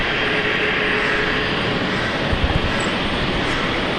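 An Emirates airliner from Dubai roars at Brisbane Airport, a broad, sustained engine rumble heard from a distance and holding steady throughout.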